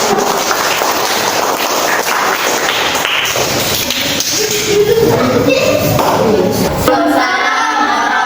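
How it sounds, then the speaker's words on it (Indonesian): A classroom of students applauds a student group coming to the front to present, dense steady clapping throughout with crowd noise and scattered voices. "Kasih tepuk tangan dong buat kelompok 1."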